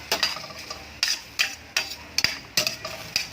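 Vegetables being sautéed in oil in a Filipino home kitchen, with a utensil scraping and stirring the pan in sharp, repeated strokes about every half second over a soft sizzle.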